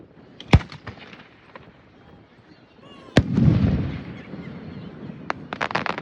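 Fireworks at a school senior sendoff burst in sharp loud pops, one near the start and a bigger blast around midway followed by rumbling crackle, then a rapid cluster of pops at the end.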